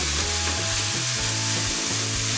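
Onions sizzle loudly in a hot pan, a dense, continuous frying hiss close up with a few stirring scrapes and no talking.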